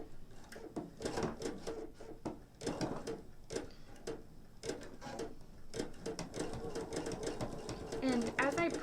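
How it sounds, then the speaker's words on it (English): A sewing machine stitching fabric for raw edge appliqué runs in short bursts of rapid mechanical stitching, starting and stopping, with a person talking quietly in between. "as I press the sewing machine needle, the machine just sort of sews"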